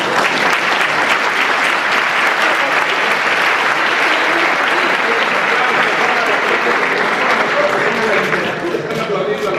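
Sustained, loud applause fills a hall during a literary debate between Mario Vargas Llosa and David Grossman at the FIL 2013 book fair, dense, even clapping from a large audience that holds steady and eases slightly at the end.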